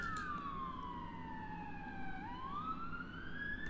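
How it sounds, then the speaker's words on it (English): Police sirens from a video game set near woods, a steady wail sweeping down in pitch then rising again, loud and continuous over a low rumbling background with no talking. "Your thoughts are cut off by the sound of police sirens."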